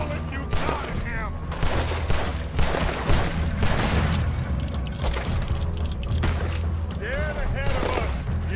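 Rapid gunfire in a Red Dead Redemption 2 shootout, repeated close cracks and volleys over a steady rumbling background, with shouted voices in between.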